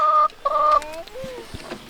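Chickens in a backyard chicken run give a few short clucks and warbling calls, close and fairly clear, with no talk over them.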